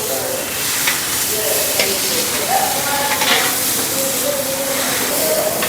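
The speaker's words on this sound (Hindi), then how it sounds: "इसी में हम पपैया डाल दिए और इसको 5 मिनट तक हल्के आंच में फ्राई करके" Papaya frying in ghee over low heat in a large pot, a steady broadband sizzle with scraping stirring strokes throughout, continuous and fairly loud with no talking.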